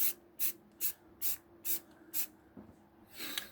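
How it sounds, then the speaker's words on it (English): Six short bursts of white spray paint hiss in an even rhythm, followed by a longer spray near the end, close and fairly loud. "Now I'm just spraying the bowl, as you can see."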